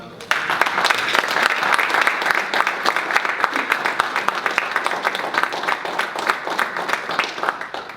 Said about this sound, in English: Let's give the panelists another round of applause.